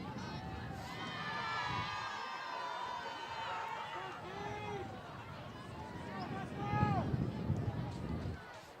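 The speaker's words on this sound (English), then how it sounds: "it's now a chant off in the crowd." Crowd at a high school football game in the fourth quarter keeps up a steady, roaring wash of voices and chanting, swelling louder near the end, with talk over it.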